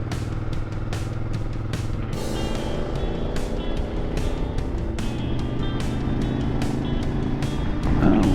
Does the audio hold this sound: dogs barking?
no